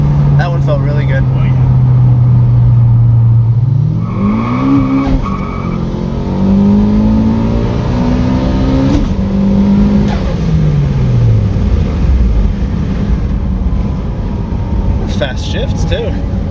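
Turbocharged Honda Civic B16 engine, 1992-95 model, climbing in revs through several quick gear shifts with the pitch rising and dropping, loud and close, with talk over part of it.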